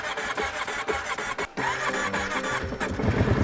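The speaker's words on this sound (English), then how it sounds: "She's gonna be a cold start." A vehicle engine cold-starting in freezing weather after a frozen keyhole, cranking and catching into a loud, rough running rumble that builds toward the end, close by with no talk.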